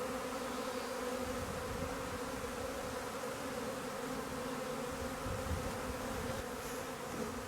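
A honeybee swarm clustered on a branch, its weight bending the wood, gives off a steady, dense buzzing hum that continues unbroken throughout, moderately close and alone.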